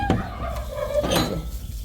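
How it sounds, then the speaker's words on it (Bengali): Brief clucking calls from large hens nearby, a few short throaty notes over a low background, beside the straw in a small tin-roofed house. "এখানে দেখবেন আমার বড় মুরগিগুলা"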